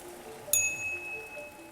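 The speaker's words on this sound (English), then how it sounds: "The bell rang." A single small bell is flicked once, a sharp bright ding that rings out and decays slowly against a quiet, faintly humming background.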